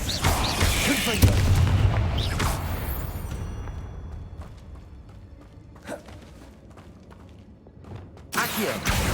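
A Confringo blasting curse explodes in Hogwarts Legacy, a loud booming burst with a creaking, rumbling tail that fades, followed by further sharp impacts and clatter toward the end.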